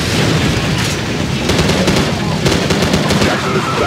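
Machine gun fire and explosions crackle in Call of Duty 4 during a swamp battle, dense bursts of rapid shots with booming blasts layered over a constant roar of combat, loud and close throughout.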